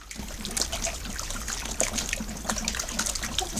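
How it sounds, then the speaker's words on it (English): Hot wort for a Coopers chocolate and vanilla stout being stirred, a steady close trickling and sloshing of liquid with small splashes, continuous throughout with no talking. "Give that a stir."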